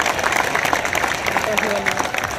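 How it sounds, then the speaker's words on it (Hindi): A large crowd claps for Sanjeev Balyan at the closing of an MP sports competition in Muzaffarnagar, a moderately loud, continuous patter of applause with a voice briefly audible underneath. "संजीव बालियान जी के लिए जोरदार तालियां बजा दीजिए"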